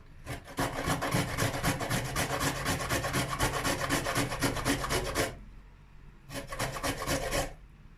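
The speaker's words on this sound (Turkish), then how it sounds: "Şimdi kabuğunu soymuş olduğum havucumu rendeliyorum." A peeled carrot being grated on the fine side of a grater makes fast, rhythmic rasping strokes that run steadily for about five seconds, pause, then resume for a shorter burst, close and loud.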